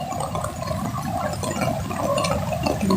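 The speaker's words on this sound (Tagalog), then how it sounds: "Baha man na tubig dito." Floodwater rushes and churns over a newly planted field, a continuous near gurgling flow with steady loudness and no talking.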